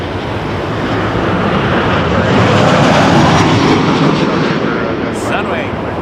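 An airplane takes off at Toronto Pearson Airport, its loud, broad engine roar swelling toward the middle and holding close and steady throughout.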